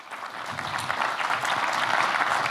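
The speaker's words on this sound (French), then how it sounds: "Vous pouvez l'applaudir." Audience applause rising as a speaker is welcomed onto a conference stage, a steady, moderately loud patter of many hands building over a couple of seconds.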